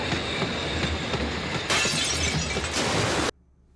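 A long animated train in One Piece thunders past loudly, a dense continuous roar with clattering surges over several seconds, then cuts off abruptly to silence.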